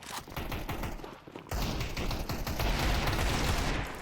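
Gunfire bursts in a Counter-Strike match, rapid clustered shots cracking in quick succession, fairly loud and close, with a brief lull before a dense, sustained volley.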